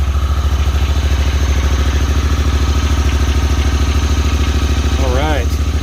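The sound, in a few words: Honda Pioneer 1000 engine idling after exhaust repair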